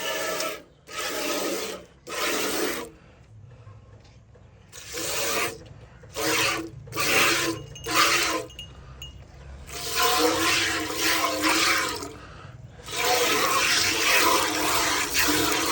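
Hand milking into an empty bucket, with milk streams squirting in rhythmic bursts that ring loudly against the pail, broken by short pauses and a low background murmur.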